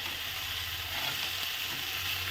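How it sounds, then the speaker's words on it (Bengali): Shutki (dried fish) curry with vegetables stirred as it fries in a pan, a steady close sizzle with faint scraping from the stirring, no voices. "এখন একটু তরকারিটাকে নেড়ে দেবো।"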